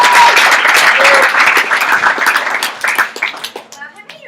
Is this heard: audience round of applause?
yes